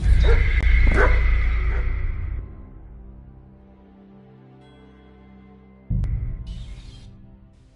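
Dog in the video game Kingdom Come 2 barking and yelping loudly and near for about two seconds, then quiet ambience before another burst of yips and whimpers.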